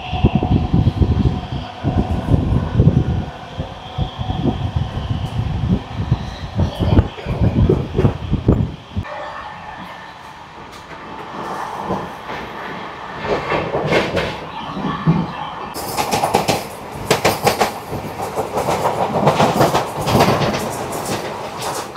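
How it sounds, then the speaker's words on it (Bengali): A passenger train on the Kolkata to Sairang route runs on rails, with a loud rumbling, clattering ride and rhythmic clickety-clack, and a bright rushing roar in the last seconds. "আমাদের ট্রেন এই মুহূর্তে ক্রস করছে রানাঘাট"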